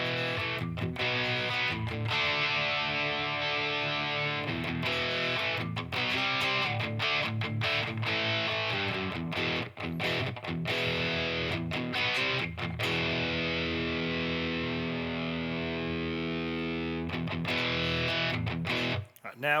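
An electric guitar runs through a Headrush rig with a white boost pedal, producing thick distorted chords and riffs. The playing is loud and continuous with brief pauses between strummed phrases.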